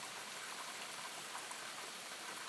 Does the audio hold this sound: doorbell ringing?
no